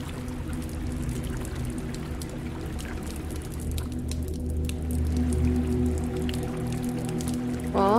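Water in a flooded sewer in a Roblox game, a steady trickling, dripping flow with splashy detail over a low hum, continuous and fairly close throughout.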